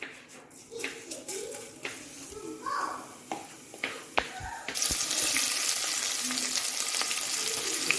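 Cumin seeds dropped into hot oil in a home kitchen for a country chicken curry, giving a sudden bright crackling sizzle that starts partway through after softer clatter and a voice speaking, then holds steady and loud.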